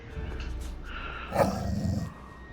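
A dog in the video game Indiana Jones et le Cercle Ancien gives a short, close growl with a rough bark in the middle, over a low game rumble.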